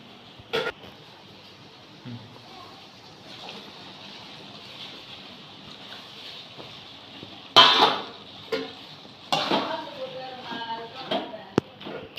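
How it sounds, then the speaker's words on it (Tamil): Boiled beef intestines go into a cooking pot for a Tamil-style beef intestine curry. Sharp clanks and metallic knocks of pan and utensils sound up close over a faint steady hiss, with someone speaking. "இப்போ இந்த டைமில் நம்ம வேக வச்சுருக்க பீஃப் குடலை சேர்த்துக்கலாம்."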